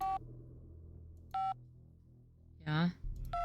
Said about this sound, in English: Oh, why your phone beeps?